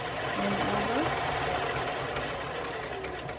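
Sewing machine running a box stitch, a steady mechanical whirr and hum at close range, fairly constant and easing off slightly toward the end.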